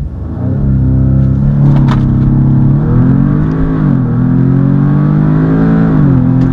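An Audi S3 using launch control revs its engine to about 4,000 RPM, a loud, close, sustained droning roar that climbs, dips slightly and holds steady without any talk.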